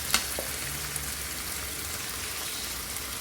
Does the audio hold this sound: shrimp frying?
yes